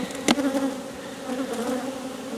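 Honey bees buzz in a dense, continuous drone around an opened beehive during a hive split inspection, close and fairly loud, with a sharp knock near the start.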